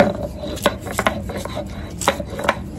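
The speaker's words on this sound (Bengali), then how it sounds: "দেখো তো ছাড়িয়ে নিই মাছ কটা।" Shrimp being peeled by hand in a home kitchen, irregular soft crackling snaps and rubbing of shells, close and fairly quiet, several small clicks spread across the stretch.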